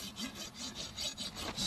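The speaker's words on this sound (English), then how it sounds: "clean off the face of the hoof wall. You want to go all the way back to the heels." The smooth side of a farrier's rasp is drawn across the outer face of a horse's hoof wall toward the heels, about eight rhythmic rough strokes, close and fairly quiet.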